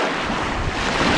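Strong wind blows steadily across a big open lake at a carp fishing spot, roaring and buffeting the microphone with a constant loud rush.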